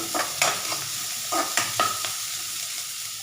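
Onions sauté in a pan with a capsicum dish, giving a soft steady sizzle punctuated by several brief stirring scrapes at uneven intervals.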